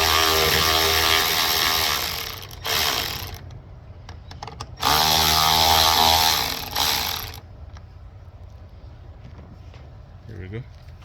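A power driver whirs loudly in two long bursts, with a shorter one between them, while driving screws into a TB 110 lawnmower carburetor, then falls to quieter clicks and handling noises.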